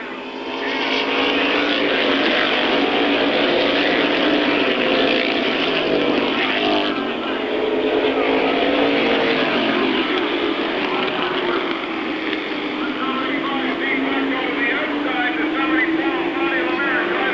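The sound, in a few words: race cars battling on a raceway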